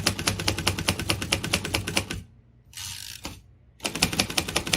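Typing on a Royal Quiet DeLuxe manual typewriter: rapid, close key strikes in a steady clatter, a brief pause with a soft mechanical whir, then the dense keystrokes resume.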